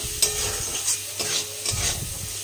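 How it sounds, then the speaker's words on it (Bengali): Chickpeas being stirred and fried in a pan at home, with a steady sizzle under repeated scraping strokes of a spoon, close and continuous. "ছোলাগুলো একটু না ভেজে নিলে হবে না।"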